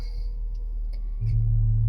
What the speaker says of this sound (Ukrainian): Послухати роботу двигуна.